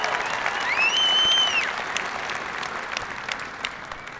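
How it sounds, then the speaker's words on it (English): Steady audience applause fills a commencement ceremony hall with dense clapping at an even level, and a whistle rises briefly above the crowd. "please join me again in a round of applause"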